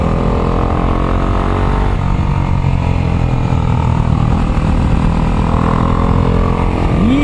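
Kawasaki Ninja 250SL single-cylinder engine droning steadily while riding on a public road, a continuous loud motor hum with wind rush throughout, no talk.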